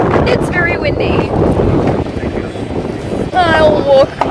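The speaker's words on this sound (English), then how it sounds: "Oh, it's windy! It's very windy." Strong wind at the Australian International Airshow buffets the microphone with a loud, rumbling roar, while someone talks over it and brief whistling tones rise above the gusts.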